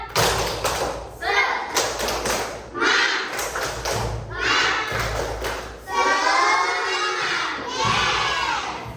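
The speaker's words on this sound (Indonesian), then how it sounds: "tepuk semangat ya" A group of children performs the tepuk semangat clapping chant, rhythmic bursts of hand claps and thumps alternating with shouted chanted syllables and cheering voices, loud and close, in a lively classroom setting.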